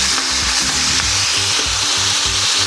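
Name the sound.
frying onions, tomatoes, green chilli, ginger-garlic paste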